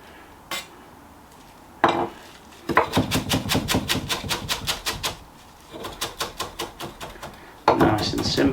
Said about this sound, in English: I'm just going to chop the coriander up, the stalks and everything